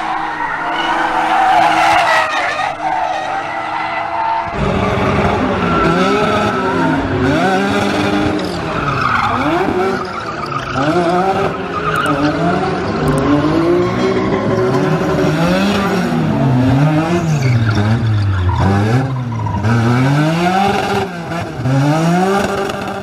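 A BMW E46 drifts with long, loud tire squeals that rise and fall in sweeping waves over a revving straight-six engine, continuous throughout with no talking.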